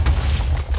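TNT detonating in a video game: a brief, loud, deep boom with a heavy rumbling low end that fills under a second, no talking.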